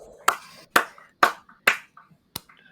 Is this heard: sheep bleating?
no